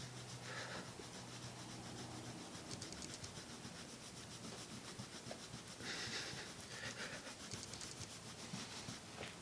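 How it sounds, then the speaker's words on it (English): A rag is rubbed firmly over the waxed surface of an antique oak table, making a faint, continuous scrubbing and rubbing sound with soft, rhythmic swells throughout. "take a rag and push down as you rub it, and it'll rub off all the excess wax"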